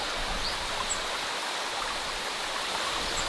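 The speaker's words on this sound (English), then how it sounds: "the distant presence of flowing water." Steady, even rush of distant flowing water, a continuous broadband wash like a stream heard from afar, with no voices or other events.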